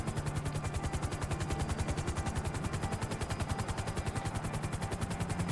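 Rotor blades of a helicopter in the video game Grand Theft Auto V chop in a loud, fast, steady rhythm close by, filling the whole stretch with no talk.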